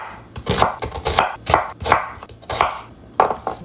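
Onion being chopped with a knife on a cutting board while making sinigang pork soup, a series of about seven distinct close knife strikes in an uneven rhythm, with no talking.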